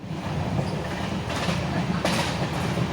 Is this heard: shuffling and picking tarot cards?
no